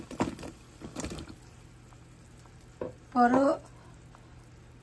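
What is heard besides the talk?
water boiling with a cinnamon stick for date cake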